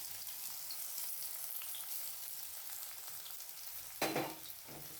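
Chopped onion frying in hot oil, a quiet continuous sizzle with a sharper burst of crackling toward the end as the pieces are moved in the pan.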